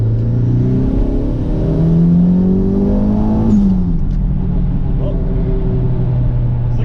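A Toyota MR2 turbo accelerates under boost, engine pitch climbing steadily through a gear before a shift, then settling into a loud, close cabin drone with a faint whir.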